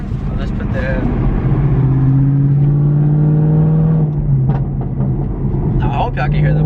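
Inside a 2017 Camaro fitted with Kooks headers and a tune, a loud engine drone swells and eases off, followed by a burst of crackling exhaust pops, with someone speaking over the sound.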